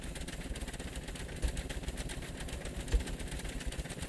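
A piston engine runs in Scrap Mechanic with a steady mechanical drone and fast rhythmic chugging, plus a couple of louder knocks, continuous and alone without speech.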